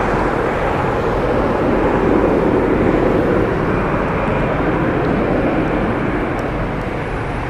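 A heavy Boeing 777 jet airliner roars past at an airport, a loud, continuous low rumble that stays steady throughout.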